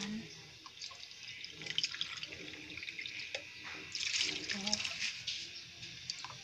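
Two and a half cups of water pour into a cooking pot for palabok, a soft running, splashing stream with faint drips in a quiet kitchen.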